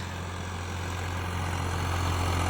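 Swaraj and Sonalika tractors run side by side, their engines giving a steady low droning rumble that holds constant and fairly loud throughout.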